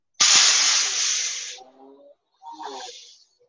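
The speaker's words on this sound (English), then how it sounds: "Something's sizzling." Food sizzles in a hot pan close by, a loud bright hiss that fades after a second or so, then a shorter second burst of crackling sizzle follows a brief pause.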